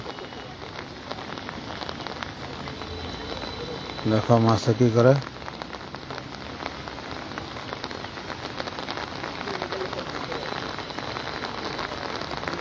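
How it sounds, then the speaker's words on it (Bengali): Heavy monsoon rain in Cumilla pours down steadily in a dense, continuous hiss throughout, with a voice speaking briefly over it midway. "দেখো বৃষ্টির আওয়াজ শুনতে পাচ্ছ"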